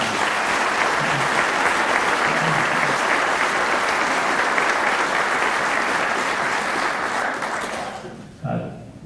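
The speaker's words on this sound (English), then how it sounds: "Let's give him another round of applause." A ceremony audience gives a sustained, loud round of applause for retiring General Coates of the North Carolina National Guard, the clapping dense and steady before dying away near the end.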